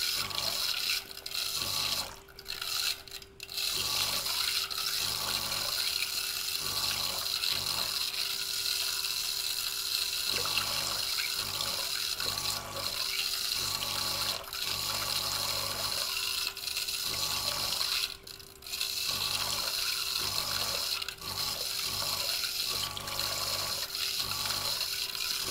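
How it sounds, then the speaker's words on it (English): Pump pulsing water in a homemade electrical discharge machining rig, a loud continuous splashing rush with a steady hum, cut by brief dips and clicks as the flow is switched on and off. "I'm gonna pulse the pump, I guess."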